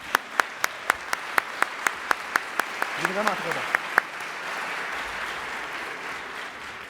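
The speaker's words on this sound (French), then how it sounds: "Je vous invite à l'applaudir." An audience at a 2014 Montreal entrepreneurship gala applauds Jean-Philippe: a steady, even rhythm of sharp claps gives way to a dense, sustained wash of applause, with a voice speaking over it.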